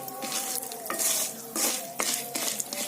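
A utensil scrapes and stirs corn kernels frying in oil in a pan, a rapid series of close scraping strokes over a continuous sizzle, no voices.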